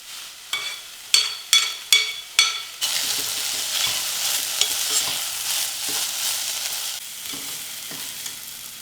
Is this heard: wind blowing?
no